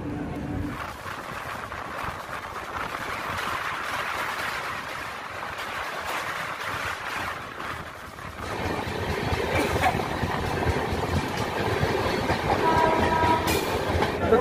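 Howrah–Malda Intercity Express (13011) train running near Bardhaman, with steady rumbling wheel and carriage noise throughout that grows louder and busier in the second half, a brief horn-like tone near the end, no talk.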